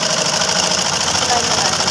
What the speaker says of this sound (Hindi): किस तरह हमको मशीन घुमाना है, किस तरह हमको सिलाई लगाना है।